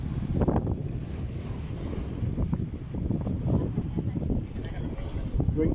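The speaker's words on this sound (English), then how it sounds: "Water coming and splashing." Sea waves wash and splash along the shore at Eagle Square in Kuah, Langkawi, at sunset, a steady rough rush mixed with gusty wind buffeting the microphone.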